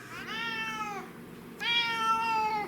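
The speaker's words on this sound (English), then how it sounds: "So my cat hates being in this crate." A cat shut inside a dog crate gives two loud, drawn-out meows close by, with a short pause between them and no talk.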